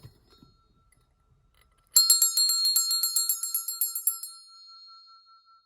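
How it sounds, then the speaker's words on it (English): A single ringing bell is struck once after near silence, giving a bright, loud metallic chime with a rapid shimmering pulse that decays over about two seconds into a soft hum. "let's ring the bell"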